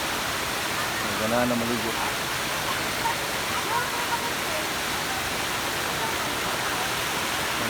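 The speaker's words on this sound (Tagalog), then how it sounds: "Palaypay Falls." Palaypay Falls in Pamplona, Negros Oriental, roars as a steady broadband rush of falling water, loud and continuous throughout, with brief voices speaking over it near the start.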